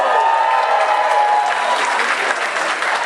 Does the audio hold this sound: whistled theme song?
no